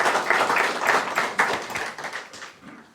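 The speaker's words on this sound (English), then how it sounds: "give them a round of applause" An audience claps on the opening night of a drama festival, a steady patter of moderately distant applause with no talk over it.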